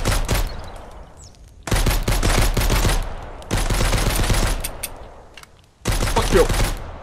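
Bursts of rapid machine gun fire in Mist Survival come in three or four loud sustained volleys, separated by brief pauses with fading echoes.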